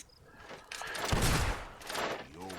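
Gunfire in the video game Fable 2, a short volley of shots with a heavy blast in the middle, loud and dense and fading quickly, with no talking.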